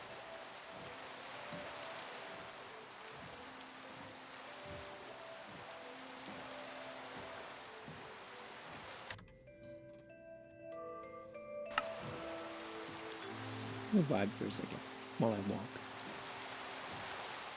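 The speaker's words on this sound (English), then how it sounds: "Listen to the sound of the falling rain" Steady rain patters throughout in Minecraft, briefly cut out midway, with a person speaking over it near the start.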